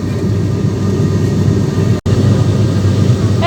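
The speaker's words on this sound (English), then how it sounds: "our aircraft today is the ATR 72-600 from Airbus and Aerospatiale" Steady, loud droning roar inside the cabin of an ATR 72-600 turboprop in flight, broken by one sharp momentary dropout midway, with no speech.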